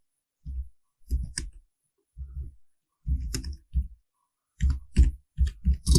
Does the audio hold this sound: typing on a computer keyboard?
yes